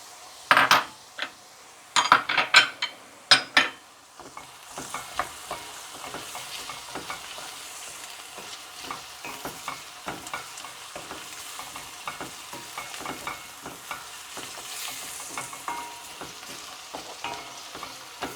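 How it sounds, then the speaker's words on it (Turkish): Chopped onions and carrots sauté in a pan for a cauliflower dish, opening with several sharp spoon knocks against the pan, then a steady close sizzle with frequent scraping stirs. "Şimdi bunu birkaç dakika kavuralım"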